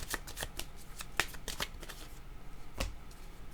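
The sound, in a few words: shuffling tarot cards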